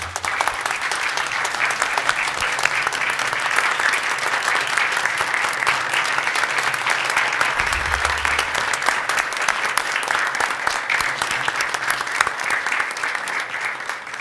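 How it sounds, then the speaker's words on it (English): Steady, dense applause from a crowd at a city council meeting, sustained throughout with no pauses, loud and close. "give them a round of applause for what they've done for us"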